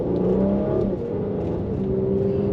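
A Mercedes GLC 43 AMG in Sports Plus mode on a twisty, slick road hums and revs from inside the cabin, the engine note rising and settling through a gear change.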